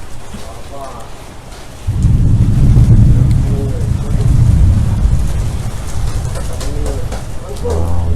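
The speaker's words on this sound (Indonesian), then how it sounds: "Hujan." Steady rain falls with broadband hiss and low rumble, swelling loud after a quieter opening and continuing to the end, with faint voices underneath.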